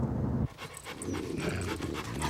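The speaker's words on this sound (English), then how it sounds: "Dogs." A dog panting up close in quick, breathy bursts, with a brief louder stretch at the start and then softer panting under low background noise.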